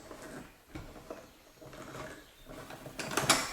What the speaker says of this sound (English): you heard the machine just do the little click